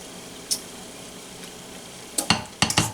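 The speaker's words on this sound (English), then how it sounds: "I'm going to stir this in." A quiet stretch with a faint scrape, then a quick series of close clinks and scrapes as a utensil stirs a mixture in a bowl.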